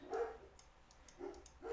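Dogs bark somewhere in the background, a few faint, scattered barks and yips at moderate distance spread over a quiet room.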